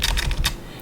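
Fingers typing a search term on a computer keyboard: a quick run of about five close, crisp keystrokes in an even rhythm, then a short quiet tail.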